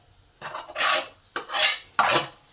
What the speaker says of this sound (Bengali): এই আলুটাকেও ভালো করে নেড়ে নেব।